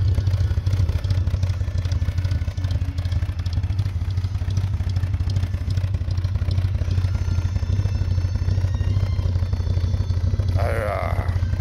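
A classic Aston Martin engine idles close by with a steady, throaty low rumble and mechanical clatter, continuous throughout, with a brief higher-pitched sound near the end.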